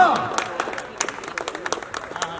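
Scattered applause at a journalists' association gathering in Mumbai, individual claps ringing out irregularly from a modest audience after a speaker's voice fades at the start.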